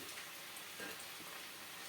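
Potatoes sizzle quietly in a pan, a faint, steady crackling hiss with no talking.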